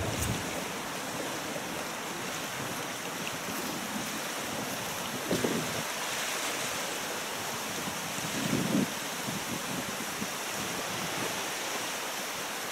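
Strong wind blows steadily outdoors during a board-riding session, a broad continuous rush with gusts and faint water wash underneath, loudest near the microphone and with no talking.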